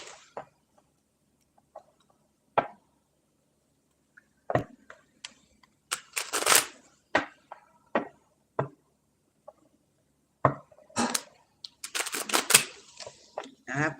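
Tarot cards are shuffled up close in irregular bursts of soft riffling and slapping, with short taps and quiet gaps between the handfuls.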